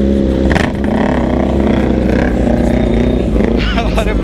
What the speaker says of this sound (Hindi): 650 में फुल सिस्टम, वो भी ऑस्टिन रेसिंग का कैन लगा है, अलग ही हल्ला कर रही है